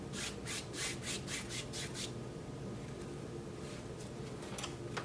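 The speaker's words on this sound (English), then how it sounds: "we'll take a shop rag and wipe a lot of that off" Shop rag rubbed across painted wood to wipe off excess paint, a rapid series of short scrubbing strokes at first, then lighter, sparser wipes, close and fairly quiet.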